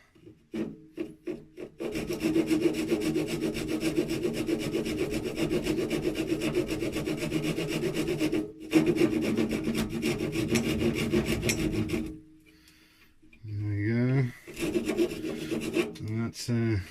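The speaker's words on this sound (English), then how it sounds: "So let's do it over here, just with a round rasp" A thin round rasp files a small oak ashtray in long continuous strokes, a loud near scraping rasp that runs steadily, breaks off briefly, resumes, then stops, followed by a few shorter scrapes and handling noises.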